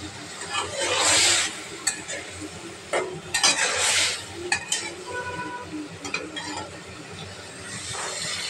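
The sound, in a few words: onion and green chili paste being stirred and fried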